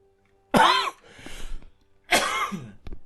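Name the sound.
cough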